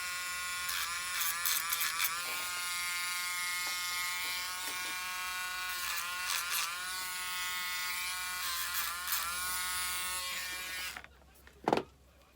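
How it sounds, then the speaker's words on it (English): A Dremel rotary tool turned down to a lower speed smoothing the rough edge of a metal fork, a close, steady high-pitched whine with wavering pitch that runs for about eleven seconds and then stops. "I have a little bit of rough edge here, so I'm just going to take my Dremel, turn it down a little bit."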